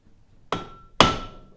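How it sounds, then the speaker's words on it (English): Two loud, sharp metal clangs about half a second apart as a hammer strikes a rusted brake rotor on a Suzuki Reno front brake to break it loose, each hit ringing out briefly. "Now you can also whack on the inside of the rotor"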